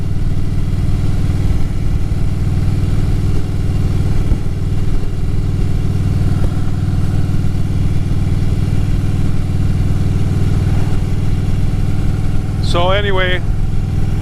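Motorcycle engine drones steadily throughout a ride on a near-perfect day at State Fair Park, with loud continuous wind and road rumble, while a rider talks over it most of the way.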